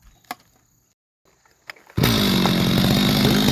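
A chainsaw cutting pine firewood on a mountain slope catches after faint pulls and roars into a loud, steady, close run that carries through to the end.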